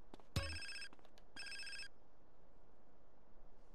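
A phone rings in GTA San Andreas, two electronic trilling bursts after a sharp click, then quiet background.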